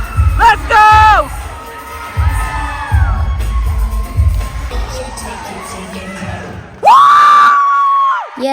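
An audience cheers, whoops and screams after a dance performance on stage, with loud bursts of shouting and a long high scream near the end.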